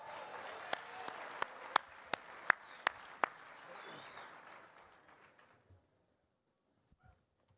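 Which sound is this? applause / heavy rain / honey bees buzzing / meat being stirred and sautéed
applause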